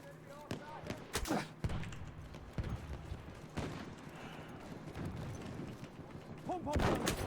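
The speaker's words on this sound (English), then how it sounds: "Oh, mounted machine gun." Gunfire in Battlefield 1 around a mounted machine gun, heard as scattered heavy shots and booms spread irregularly across the scene, with a voice talking between them.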